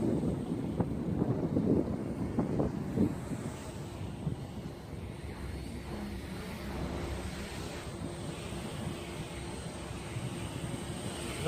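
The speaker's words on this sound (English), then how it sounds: "Man, it's windy out here." Strong wind buffets the microphone outdoors in cold weather, producing a constant low roaring rumble that swells and eases over the whole stretch, loud and close, with no talking.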